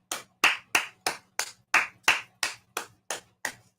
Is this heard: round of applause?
yes